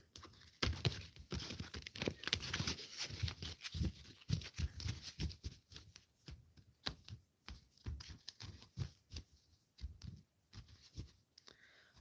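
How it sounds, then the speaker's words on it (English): Tarot cards shuffled by hand during a reading, a run of quick papery riffles and taps in irregular bursts, close and fairly quiet, with no talking. "I'm going to shuffle again."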